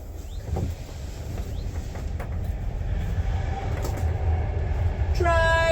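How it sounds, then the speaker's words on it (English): A train rumbles past close by a narrowboat with heavy low-frequency noise, growing louder, ending in a brief horn blast. "Train!"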